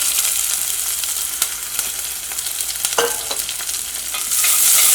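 Shallots fry in hot coconut oil, a loud, dense sizzle close up with occasional clinks of a spoon stirring and a surge of crackle near the end.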